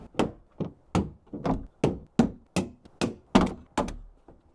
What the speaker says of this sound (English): it's just a matter of going round and releasing the clips holding this on